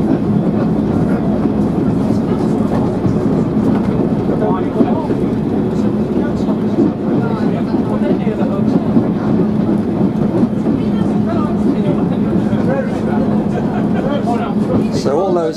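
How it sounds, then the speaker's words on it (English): Loud, continuous rumble of a diesel multiple unit train running, with steady engine drone and faint rhythmic clatter throughout, heard from inside; a voice speaks over it. "is driving a proper special train."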